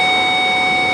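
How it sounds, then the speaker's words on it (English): Parking sensor in a 2009 Ford F250 Lariat FX4 pickup truck gives a continuous high electronic tone, steady and fairly loud for about a second with no talk. "one may have a bad parking sensor. We'll try and check that out. It's beeping though."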